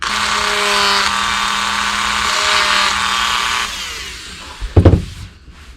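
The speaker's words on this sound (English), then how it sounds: "Now I've just got this circle Dremel bit, and I'm gonna just go right until that black ends." A Dremel rotary tool with a circular cutting bit grinds into a wooden bass popper fishing lure, a steady high whine lasting several seconds, easing off, then ending in a few short knocks and clatter.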